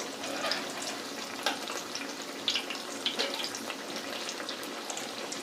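Kerala-style poricha pathiri fry in hot oil, giving a continuous, even sizzle with small crackling pops, close by and steady, with no talking.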